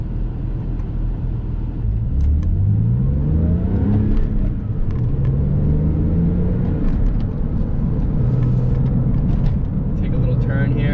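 Porsche 996 911 engine while driving at about 40 mph, a steady low drone with rising and falling tones through a turn, heard from inside the cabin with continuous road and engine noise.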